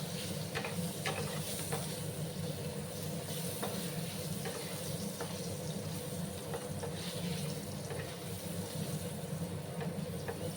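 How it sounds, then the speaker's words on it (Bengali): Potatoes fry in oil in a pan for a Bengali rohu fish curry with potato and pointed gourd, a steady close sizzle and hiss with occasional stirring scrapes and crackles, no talking. "প্রথমে আমি একটু আলুগুলোকে 2 মিনিটের মতো ভাজবো"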